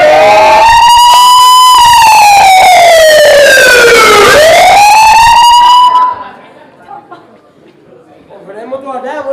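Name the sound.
siren sound effect, ambulance passing in stage drama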